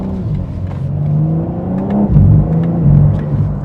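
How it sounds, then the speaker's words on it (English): A 2026 BMW M4 Competition in its most aggressive transmission mode, the engine rising under load and then giving sharp rev blips on quick gear shifts, loud, close and deep, with no talking. "Aggressive blips, everything about this car is just top level aggressive."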